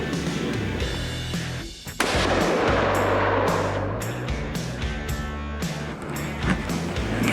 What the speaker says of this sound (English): Lightly pull the trigger, go ahead.